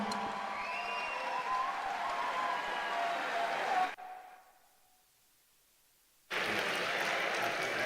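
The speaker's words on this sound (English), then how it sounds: "Another big round of applause." Broad crowd applause at a large Yom Yerushalayim celebration event, a dense sustained wash that cuts out abruptly, falls near silent, then resumes equally full.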